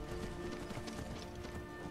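Horse hooves clip-clop steadily through brush in Skyrim, the rhythmic footfalls continuous over a dense, busy game soundscape, with an occasional whinny.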